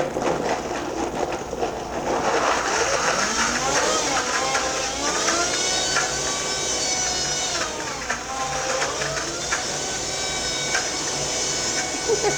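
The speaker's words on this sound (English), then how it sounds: "Now we're gonna blend." A blender whirs through frozen fruit, liquid and protein powder for an acai bowl, a loud steady motor drone with wavering, rising pitch as the thick mixture churns.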